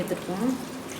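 A glass of water splashes and trickles briefly as it is poured into a pan of crab being cooked, close by, with some background noise.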